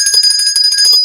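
A small bell rung rapidly and loudly, a bright metallic ringing of quick repeated strikes that overlap into a continuous jangle for about a second before stopping.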